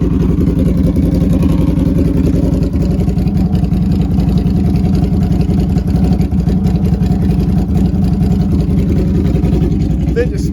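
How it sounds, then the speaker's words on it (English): A Can-Am Outlander XTMR ATV engine idles loudly up close, a steady low throbbing rumble with a fast even pulse throughout. "idling a bit better now"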